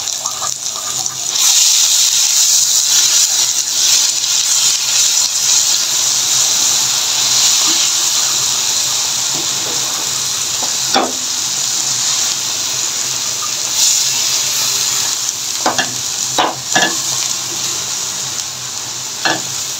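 A ground paste fries in a hot pan, a loud, close, steady sizzle and hiss with stirring scrapes and several sharp clinks of a spoon against the pan toward the end, with no talking.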